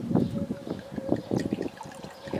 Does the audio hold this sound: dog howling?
no